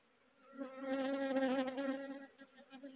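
A close, steady insect buzz swells and fades over a couple of seconds against a quiet background.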